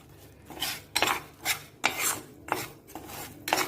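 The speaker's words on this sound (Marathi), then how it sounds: "मी हे मिक्सरमधनं काढून घेते" Repeated rasping scrapes, about six strokes in a steady rhythm, of a spoon scraping food out of a mixer jar, close and fairly quiet.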